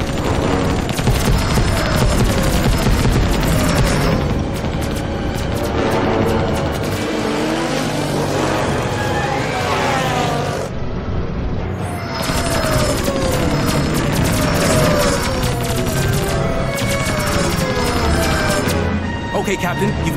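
Weapons fire in an animated sci-fi battle at a fortress, dense rapid bursts and blasts layered over each other almost continuously, loud and busy, with a brief lull midway.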